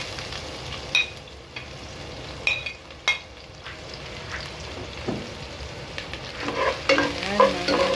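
Onion and ginger sautéed in a pan for chicken tinola, a low steady sizzle broken by repeated sharp spatula scrapes and clinks, with a livelier sputtering burst of stirring toward the end.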